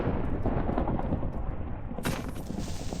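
A Minecraft thunderstorm rumbles loud and dense throughout, with a sharper crack of thunder breaking in about two-thirds of the way through.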